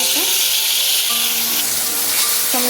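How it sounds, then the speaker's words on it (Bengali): Tomato going into a pan of frying ginger and green chili paste with turmeric, a loud, dense hiss and sizzle that stays steady throughout, with faint scraping of a spoon. "দিয়ে দিচ্ছি আদা আর কাঁচা লঙ্কা বাটা। মশলাটা যাতে চারিদিকে না ছিটায় তার জন্য আগের থেকে হলুদটা দিয়ে দিলাম। এরপর দিয়ে দিচ্ছি টমেটো"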